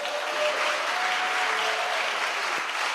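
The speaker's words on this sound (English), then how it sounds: "You can clap now." A gala audience applauds in a full, steady roar of many hands clapping that holds level for the whole stretch, with faint tonal traces beneath and no clear voices.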